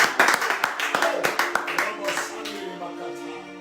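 A church congregation claps in a brisk, steady rhythm, the sharp hand claps close and lively for a few seconds before easing off, with voices and music underneath.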